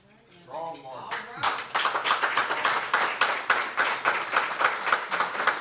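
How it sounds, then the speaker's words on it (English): Debate audience bursts into sustained rhythmic applause, many hands clapping close and steady after a brief voice at the start. "We do ask if you would just hold your applause, please"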